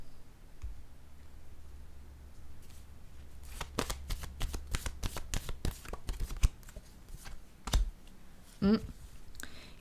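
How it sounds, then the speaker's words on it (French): Tarot cards are shuffled and riffled close up in a quiet room, a quick burst of papery flutters and taps followed by a few softer clicks as cards are drawn and set down. "Je vais piger une autre carte ici pour ces deux-là."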